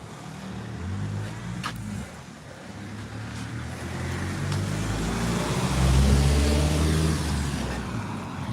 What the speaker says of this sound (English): it was a van as well, no less.